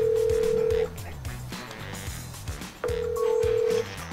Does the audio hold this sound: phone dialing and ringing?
yes